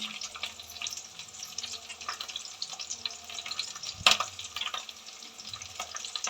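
Dried red chilies fry in oil for a horse gram sprout stir-fry, a soft close crackling sizzle with scattered pops and one sharper clack partway through.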